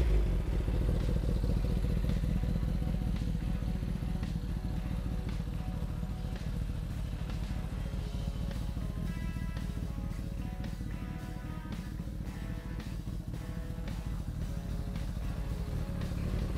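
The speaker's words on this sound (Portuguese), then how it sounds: "olha só o ronco que essa moto está fazendo" A Kawasaki ZX-10R motorcycle engine idles with a deep, throaty rumble and rapid clattering pulses, steady and close throughout, with no one speaking.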